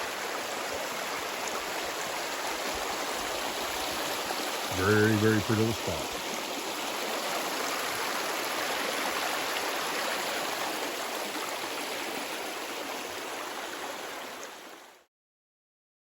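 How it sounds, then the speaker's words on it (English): A steady, close rush of Tackett Creek flowing over rocks at its confluence with No Business Creek in Big South Fork fills the scene throughout, with a person briefly speaking partway through. "that's Tackett Creek coming down"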